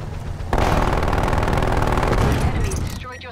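Automatic sentry turrets in the Black Ops video game firing in a dense, continuous burst of rapid gunfire that runs for about two and a half seconds at close range, then tapers off.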